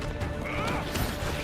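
A horse in the Crimson Desert game trailer lets out a brief whinny amid a dense, busy mix of music and effects, with a clatter under it.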